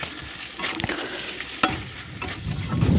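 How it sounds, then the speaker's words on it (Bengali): Ghugni being sautéed and stirred in mustard oil, with a soft, continuous sizzle broken by a few sharp spoon scrapes and taps against the pan, close up and without speech. "এবার একটু কষানোর সময় একটু তেল দিয়ে দিলাম, সরষের তেল।"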